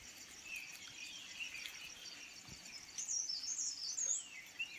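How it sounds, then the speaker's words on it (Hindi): Birds chirp faintly on a foggy morning in a mountain village, thin high calls and trills over a steady insect buzz, with a clearer, louder bird warble in the last couple of seconds and no talk. "चारों तरफ शांति है और सिर्फ चिड़ियों की यहाँ पे आपको आवाज़ सुनाई दे रही होगी इस समय।"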